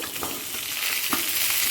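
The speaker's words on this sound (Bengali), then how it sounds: "আলুটা হালকা লাল করে ভাজা হয়ে গেছে এই সময় দিয়ে দিচ্ছি মূলো রাঙা আলু" Potato pieces fried light red in a pan, then radish and sweet potato added, sizzle steadily up close with soft stirring scrapes, loud and continuous without any talk.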